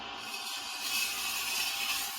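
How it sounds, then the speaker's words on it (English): A vintage 14-inch Ontario chef knife drawn in gentle, light-pressure strokes across a sharpening stone to clear the burr, producing a steady close hissing scrape with no voices. "Some very gentle strokes, almost no pressure on the knife, just cleaning it up."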